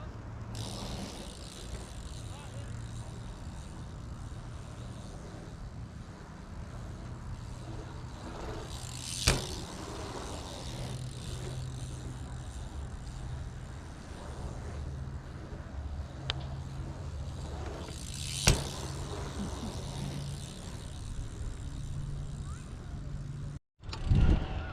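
A bicycle rolls around a pump track with a continuous rumble of tires on the packed surface, holding a steady level with a couple of sharp clunks and a brief dropout near the end.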